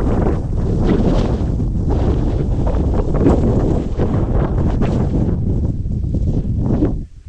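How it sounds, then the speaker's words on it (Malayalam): Strong wind sweeps across the Kurisumala hilltop at Vagamon, about 4,000 feet up, hitting the microphone as a loud, continuous roaring buffet that stays constant throughout and drops away briefly at the very end. "കാറ്റാണെങ്കിൽ എന്ത് കാറ്റെന്നാ പറയാ, നമ്മളെ കൊണ്ടുപോകും കാറ്റ്"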